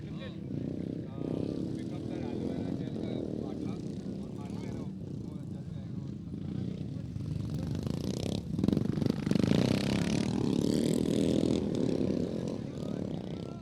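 350cc dirt track motorcycles drone around a practice lap at a live race meeting, their engines a steady rumble that swells louder near the end, under an announcer's continuous commentary.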